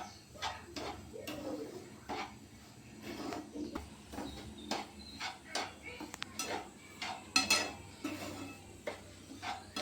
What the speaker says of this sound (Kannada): ಈಗ ಇದಕ್ಕೆ ರವೆ ಹಾಕೊಂಡು ಹುರ್ಕೊಳ್ಳೋಣ.